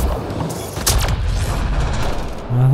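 Bursts of turret gunfire in the video game Mass Effect Andromeda, a dense, loud volley of shots and booming impacts over a continuous rumbling game soundscape.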